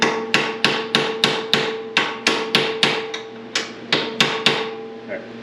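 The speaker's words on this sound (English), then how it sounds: "I'm going to take the hammer and just get it seated in there a little bit." Hammer taps a part to seat it during work on a Boomplower, about sixteen sharp metallic strikes in a steady, moderately fast rhythm, close and clear with a brief ringing tail after each.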